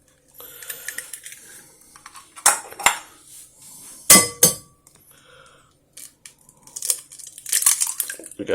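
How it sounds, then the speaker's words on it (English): Eggs cracked one-handed against a bowl for a peach kuchen, giving sharp clicks and taps with a couple of louder knocks near the middle and clattering dish handling toward the end, nearby and without talk. "I'm going to try to crack these eggs with one hand"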